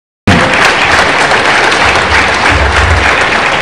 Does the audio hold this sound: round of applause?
yes